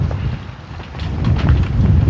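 Wind buffets the microphone in a low, continuous rumble with gusty surges that swell louder toward the end, at an RC model jet flying field, and no voices are heard.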